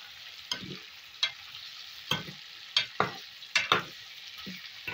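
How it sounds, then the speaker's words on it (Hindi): Chicken karahi with crushed dried coriander frying in a pan, with intermittent spoon stirs and scrapes over a steady low sizzle, close and moderately loud, no talking. "दो से 3 मिनट हम इसको और भूनेंगे,"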